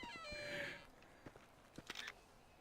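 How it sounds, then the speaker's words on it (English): A cougar in the GTA V video game gives a brief, harsh cat-like snarl near the start, followed by quieter rustling and a few faint soft thumps; the whole clip is low in level. "I knew there was going to be a cougar showing up somewhere, a mountain lion or whatever."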